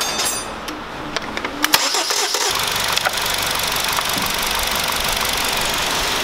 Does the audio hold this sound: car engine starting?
yes